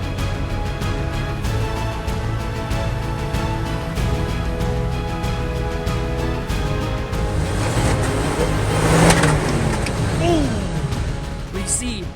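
Engine of an off-road vehicle revs hard on a rough, difficult trail at Wheeler Lake, a loud continuous drone that rises and strains toward the end, with people talking over it.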